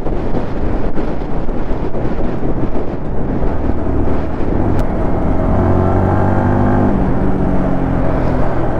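A Yamaha R15 V4 motorcycle rides along a road on a cold day, engine droning steadily under heavy, continuous wind buffeting, with the engine note rising toward the end.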